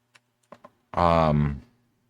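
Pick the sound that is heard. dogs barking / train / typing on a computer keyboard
typing on a computer keyboard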